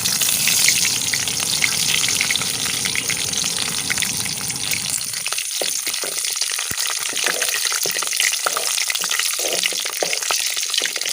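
Crushed garlic and curry leaves frying in hot oil for a jackfruit seed fry, a loud, close, continuous crackling sizzle that thins into sharper sputtering pops after a few seconds.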